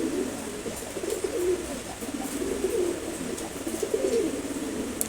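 A male Ghiya Chulli pigeon coos in low, soft, repeated phrases, faint and steady over a constant background hum, with no talk.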